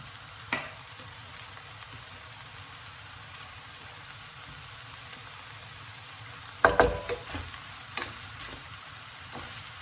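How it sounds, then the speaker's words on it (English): Peppers stir-fry with garlic for noodles, a faint, even crackle of frying close by. A couple of louder bumps and clatters of a pan or utensil stand out, mostly near the end. "Now we're going to chuck in our peppers."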